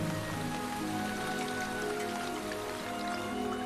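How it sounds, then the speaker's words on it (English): Heavy rain pours steadily on jungle foliage, a dense, even hiss of countless drops that holds unbroken throughout, with no voices. "The rain is becoming heavier."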